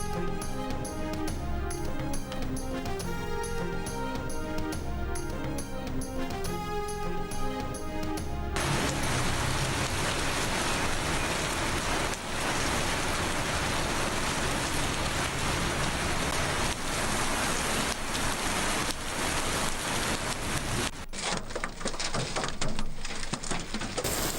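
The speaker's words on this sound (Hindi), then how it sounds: "लाहौर में बादल खुलकर बरसे।" Heavy evening rain pouring over Lahore under dark clouds, a steady, dense hiss of downpour that takes over after a short stretch of music and continues loud and unbroken.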